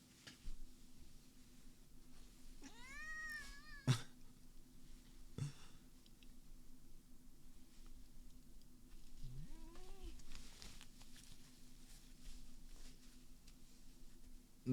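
A cat meows twice, faint and somewhat distant, with a rising-falling cry early on and a shorter one later, over a low steady hum and a few soft thumps.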